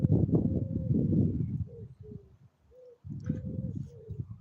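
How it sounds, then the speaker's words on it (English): An owl hoots outdoors in repeated soft, low, cooing calls that come in two bursts with a brief pause between, fairly close, with no talk over them. "Do you hear that owl?"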